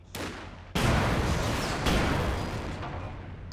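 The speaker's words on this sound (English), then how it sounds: "I'm going to launch a Faust here." A Panzerfaust anti-tank launcher fires in Company of Heroes 2 with a loud whooshing blast. Another heavy boom follows shortly after, and a long rumbling tail fades out with no talking.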